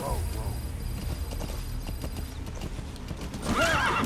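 Rhythmic clip-clop of horse hooves at a steady trot in Metal Gear Solid V: The Phantom Pain, with a horse whinnying near the end and a voice talking over it.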